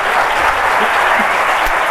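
Loud, dense applause from a conference audience at the Agile Lyon 2024 event, continuous and even from start to finish with no pauses.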